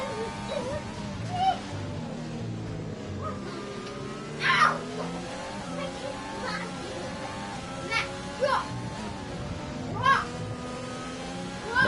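A voice makes babbling noises in the background over the steady drone of racing-game engine sounds during a sim-racing Bahrain Grand Prix broadcast, faint and intermittent behind the car audio.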